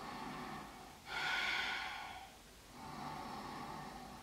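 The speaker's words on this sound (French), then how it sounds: "une grande inspire" A deep, steady inhale during a beginner yoga exercise, a soft airy breath swelling for about a second and a half, then fading into a quieter second breath, close and alone without talk.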